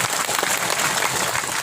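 Dense applause from a large crowd gathered in a hot, open field for an outdoor Ramadan sermon, a continuous close wash of clapping with no pauses.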